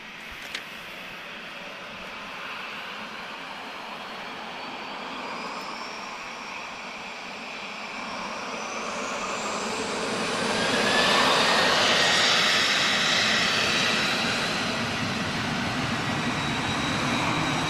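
A twin-engine jet airliner powered by two CFM56 engines spools up for takeoff at Lisbon Airport, its roar building steadily from a distant whine to a loud, broad rush that peaks and lingers.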